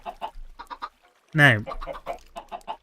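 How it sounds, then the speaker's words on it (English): Minecraft chickens cluck in a short burst of squawking in the middle, with a voice talking before and after it. "these are our chickens"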